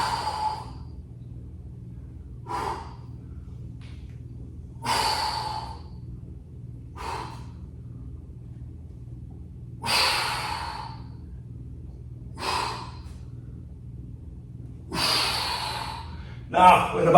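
Heavy exhales come from a person doing a bodyweight workout. About eight forceful breaths, sharp and close, repeat at a steady rhythm every couple of seconds over a low background hum.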